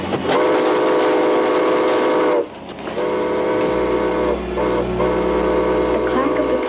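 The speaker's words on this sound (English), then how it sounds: "The clank of the train thundered in my ears" A train in a western film sounds loud, sustained horn-like whistle blasts in long stretches, with brief gaps, over a heavy low rumble of rolling cars, then continuing blasts.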